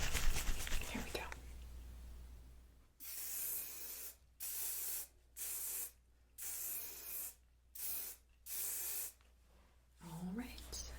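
Hairspray is misted over hair in a series of six short hissing bursts, close and crisp, with soft whispering before and after.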